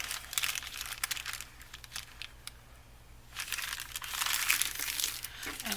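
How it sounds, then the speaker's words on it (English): A paper bag folded in half while making a vintage grunge journal, loud close crinkling and crumpling paper rustles in bursts, swelling again toward the end, with no speech. "So then I'm going to just fold it in half."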